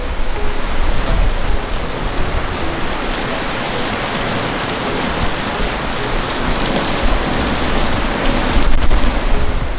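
Heavy rain pours down steadily outdoors in Chiba, a loud, dense, unbroken hiss that fills the whole stretch, swelling slightly near the end, with no voices.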